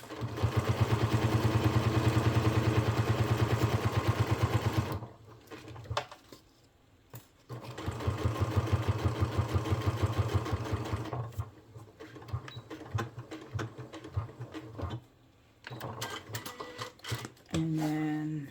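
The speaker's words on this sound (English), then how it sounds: "Start at one end, and I'll start sewing a straight line" A sewing machine stitches a straight line on a fanny pack in steady loud bursts: a long run, a pause, another run, then shorter starts and stops near the end.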